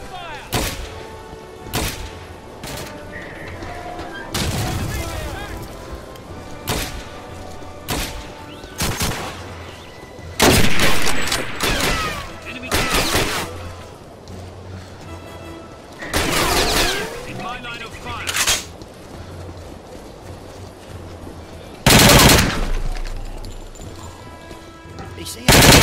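Gunfire from the tactical shooter Hidden & Dangerous 2 comes in sharp, loud bursts and single shots with booming thuds, separated by quieter gaps, with game voices calling out between them.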